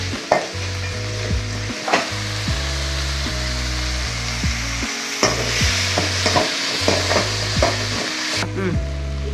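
Two medium tomatoes with a little powdered salt sizzle steadily while frying in a pan, broken by repeated stirring scrapes and clatters of a spoon, with a low steady hum underneath throughout.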